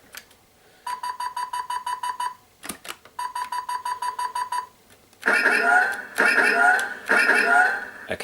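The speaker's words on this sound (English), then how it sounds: "if you hold down the button, it makes that targeting sound, and if you just tap it, makes that cool firing sound" A Hasbro Star Wars AT-TE toy cannon gives two bursts of rapid electronic targeting beeps, then three louder, harsher firing blasts in quick succession, close-up and alone.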